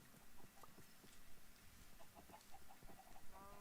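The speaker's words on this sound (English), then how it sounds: "I really need to do something about all these chickens." Chickens in the game Minecraft give soft, faint clucks and short calls scattered through a quiet stretch, several birds heard in turn with no talking.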